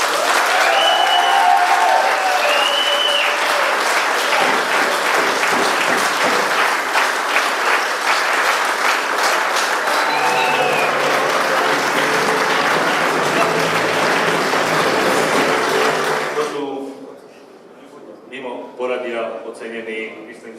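Sustained applause from a large audience at the Rescue Lesnica 2016 awards ceremony, loud and steady for about sixteen seconds before trailing off to a few scattered claps.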